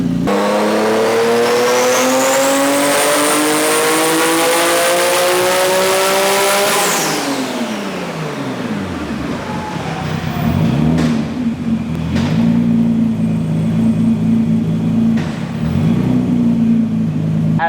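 A Nissan R33 GT-R LM with a tuned RB turbo engine revs hard and loud, climbing to a high sustained scream for several seconds, then drops off sharply and settles into a rough, pulsing lower rev.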